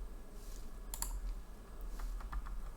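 A few soft keystrokes and clicks on a computer keyboard, heard faintly in short bursts over a low room hum.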